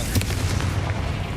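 The Confringo fire spell from the Hogwarts Legacy video game goes off as a short, dense blast with a deep booming rumble, loud and full for barely over a second.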